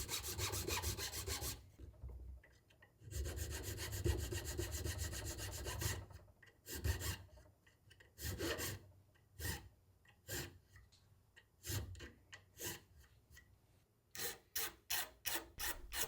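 Repeated rasping strokes of a 1/8 inch chainsaw file shaping the nock of a wooden arrow, some long and steady, others short and quick, close up with soft breathing between.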